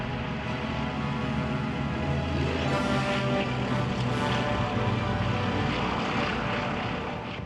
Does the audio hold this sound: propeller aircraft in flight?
yes